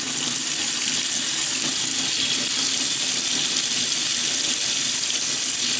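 Hot water pours from a sink faucet into a basin with heavy dish soap, a loud, steady, hissing rush of running water that stays constant throughout with no voices.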